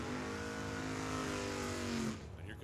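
A drag racing car at Tucson Dragway being fired back up, its engine holding a loud, steady, rasping drone for about two seconds before cutting off abruptly, leaving quieter background noise.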